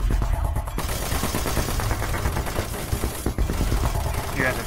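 Soldiers firing guns in the video game Doom 3: rapid, loud automatic shots rattle steadily through the moment, packed close together with no clear gaps.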